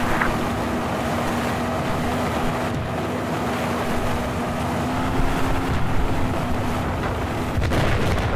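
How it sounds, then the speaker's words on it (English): A steady motorboat engine in Battlefield 4 drones throughout, a constant low hum with water and wind noise washing around it, no voices. "Oh god, that's an enemy boat."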